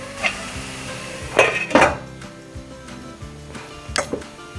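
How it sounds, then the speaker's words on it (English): Paste sautéing in a pan over a low flame while tomatoes are prepared for a peas and paneer curry, heard as a faint low sizzle beneath a few sharp clinks and scrapes of utensils against cookware. "Just keep it in low flame and saute it for 2 minutes until they completely shrink"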